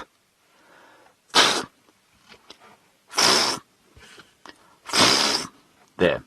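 A person imitates a topi antelope's alarm call with four loud, explosive snort-like bursts, spaced a second or two apart, with soft murmuring between them.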